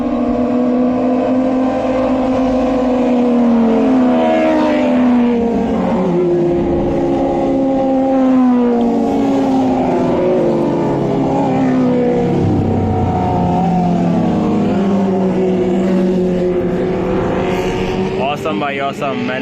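A group of motorbikes rides past on a road near a lake on a trip to Mount Batur, Bali, with engines loudly rising and falling in overlapping sweeps as each bike passes close by.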